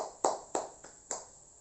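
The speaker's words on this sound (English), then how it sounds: "Give applause to Rusdi." A few separate hand claps in a classroom, four sharp slaps spaced unevenly, moderately near and fairly quiet, with no voices between them.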